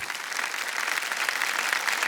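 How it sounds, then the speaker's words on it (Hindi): A studio audience on a Hindi television quiz show claps in a thick, continuous wash of applause, loud and even throughout the short stretch as a contestant's wife is welcomed. "उनके लिए हम तालियां बजा दें"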